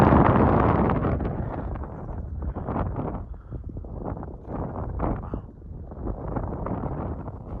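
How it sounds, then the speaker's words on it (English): Chilly wind gusting across the open hilltop at the Hill of Tara in Ireland, a loud rough buffeting roar against the microphone that surges and eases throughout. "Chilly and windy."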